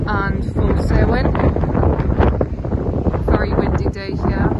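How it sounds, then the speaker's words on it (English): Strong wind buffeting a microphone on an exposed hilltop in the Preseli Hills, Pembrokeshire, a loud continuous rumbling roar with gusty surges, while a person talks over it. "Very windy day here, as you can see."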